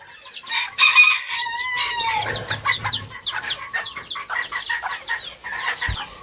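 A small chicken clucks repeatedly in quick, chattering bursts, close by, with a brief crow-like call near the start and no talking.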